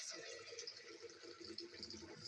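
Water runs from a kitchen tap to rinse out a blender cup, a steady hiss and splash at low level that continues throughout with no clear breaks.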